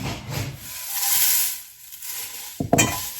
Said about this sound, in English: Give it a big stir.